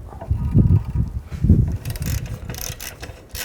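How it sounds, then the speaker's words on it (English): An 8mm socket wrench ratcheting to remove nuts from a Mercedes-Benz E320 air ride suspension compressor, with short bursts of metallic clicking and clunks from the tool and part, fairly close. "I'm going to use a 8mm socket, take those nuts out"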